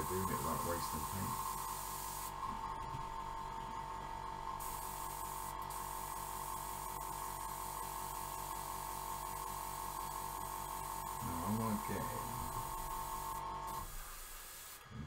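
A Fengda FE-180K airbrush blows air and cleaner in a long, steady hiss that runs almost unbroken, with a voice talking briefly at the start and again near the end.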